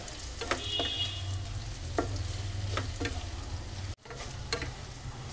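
Spices being stirred into amla in a pan, with a soft steady sizzle under a low hum and several sharp spoon clinks against the pan, close by with no talking.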